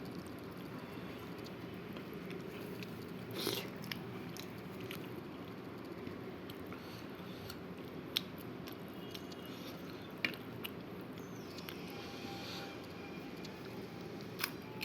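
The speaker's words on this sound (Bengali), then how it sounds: "একটু শসা খেলাম।" Someone eats cucumber, biting and chewing quietly and close, with a few faint crisp crunches over a low background hum.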